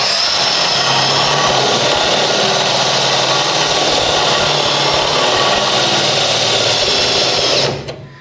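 A drill bores out spot welds on a Mk3 Cortina body under restoration, a loud, steady high-pitched whine running continuously for several seconds before cutting off abruptly near the end.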